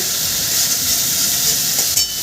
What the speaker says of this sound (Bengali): মশলাটা প্রায় আমার কষানো হয়ে এসেছে